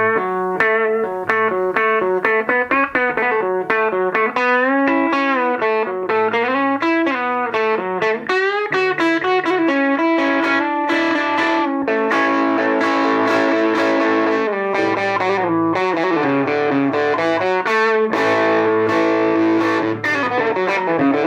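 A vintage 5-watt guitar amp is played through heavy fuzz distortion, sustained chords and riffs with dense saturated harmonics, loud and continuous throughout with no talking.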